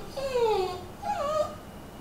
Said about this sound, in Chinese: 皮皮在这儿哼唧